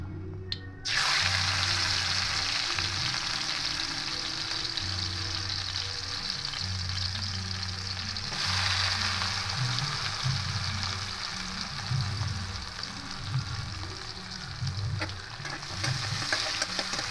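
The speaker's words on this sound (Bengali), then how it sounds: "প্রথমে একটু করলাটাকে ভেজে নেব।" Steady sizzling of bitter gourd frying in hot oil throughout, with a low intermittent hum underneath and no talking.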